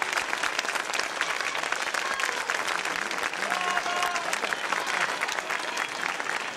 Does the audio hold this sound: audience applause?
yes